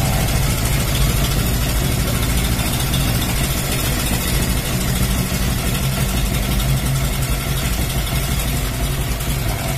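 A Modenas C1000Z motorcycle fitted with a Wave 125 carburetor and intake idles steadily nearby, a continuous low engine rumble with even vibration and no speech over it.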